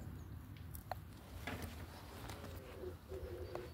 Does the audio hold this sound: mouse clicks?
no